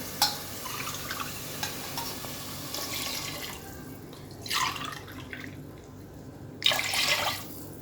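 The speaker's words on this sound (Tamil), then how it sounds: "2 டம்ளர் தண்ணி ஊற்றிக்கலாம்." Two tumblers of water splash into a pot of soaked rice in a couple of bursts over a low steady background hum, with faint dripping and clinks between pours.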